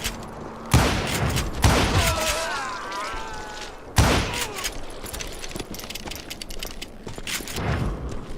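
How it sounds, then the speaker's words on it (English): A Gatling gun opens fire in the Western shooter Call of Juarez: Gunslinger as loud, heavy bursts and thumping impacts with mechanical clatter, close and sustained, while a voice speaks over part of it. "Kid Curry opened up on me with a goddamn Gatling gun"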